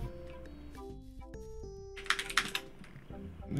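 A few quick key taps on a computer keyboard from a slow hunt-and-peck typist who looks down and uses individual fingers, clustered in a short burst midway under steady tonal game music.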